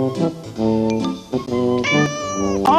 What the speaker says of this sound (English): When Billy washed the cat